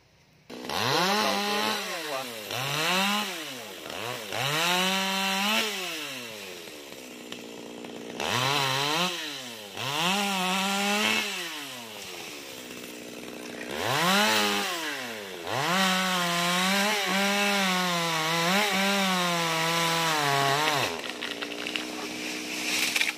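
A chainsaw cutting a very large dáng hương tree, its engine revving up and down in long repeated surges as the blade bites, loud and close with brief idle dips between cuts.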